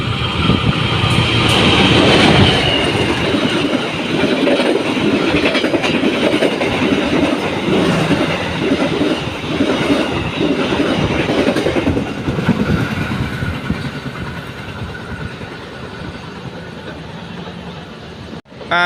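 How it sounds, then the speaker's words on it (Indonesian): The Matarmaja passenger train speeds along the rails at night in a loud, continuous roar with rhythmic clickety-clack of wheels over joints, heard close from on board. "Asli ngebut banget ya kereta api Matarmaja ya."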